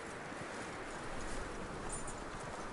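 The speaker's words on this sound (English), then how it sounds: "That looks like a decent horse." Steady clip-clop of video game horse hooves walking at an even pace, moderately close, with a constant hiss of ambient background noise and no talking.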